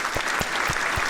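A short burst of applause with dense, even clapping and a few soft low thumps repeating underneath, loud and continuous throughout.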